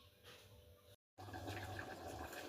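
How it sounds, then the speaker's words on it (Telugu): Cooked rice for a vegetable biryani being tipped to drain, water pouring and splashing out steadily, faint and close, with a brief gap partway before the gushing resumes. "రైస్ ఉడికిందండి. ఇప్పుడు దీన్ని వంచేసుకుందాము."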